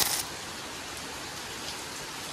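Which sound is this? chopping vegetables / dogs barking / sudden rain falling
sudden rain falling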